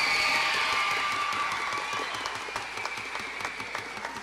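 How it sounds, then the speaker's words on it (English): An audience applauds at a school mariachi winter concert, steady loud clapping that gradually thins out and fades, with a few scattered cheers and voices in the crowd. "Can we please have a round of applause for these individual students?"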